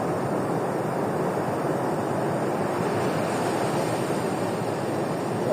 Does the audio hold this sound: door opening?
no